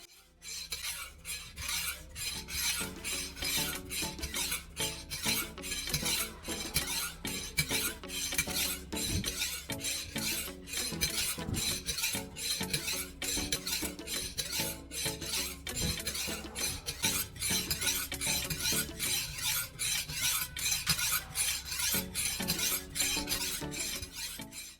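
A knife is drawn repeatedly across the 1000 grit side of a whetstone wetted with WD-40, making a fast, regular series of gritty scraping strokes, close and continuous, with no voices.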